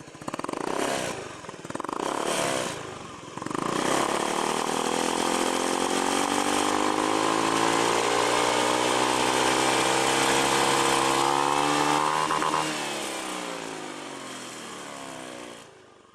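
A Honda Beat FI scooter with a fully modified, funnel-type exhaust starts with a few short, loud bursts, then holds a long, raspy rev that climbs steadily in pitch. The engine drops back to a quieter idle near the end.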